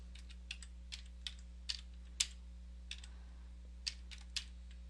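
Sparse keystrokes on a computer keyboard, a few quiet separate clicks with irregular gaps, over a steady low electrical hum.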